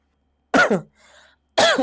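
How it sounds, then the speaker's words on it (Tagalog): Two harsh, close coughs separated by a short pause, with a soft breathy rasp between them. "Inuubo tayo eh."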